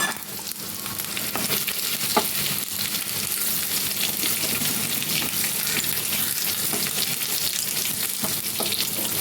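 Roasted masala hits hot dal for achari dal and sizzles loudly and steadily the whole time, with a dense crackling hiss and faint stirring taps, no voices.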